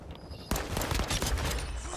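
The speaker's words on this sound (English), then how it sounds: "I was about to get a double kill with a pistol" Pistol gunfire in a video game breaks out suddenly partway through, a rapid cluster of sharp close shots crackling after a quieter start.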